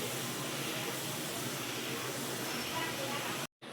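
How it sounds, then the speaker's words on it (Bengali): A pot of matar dal coming to a boil gives off a continuous, even, steamy hiss close by, holding steady before cutting off abruptly near the end. "ডালটা আস্তে আস্তে ফুটতে শুরু করেছে।"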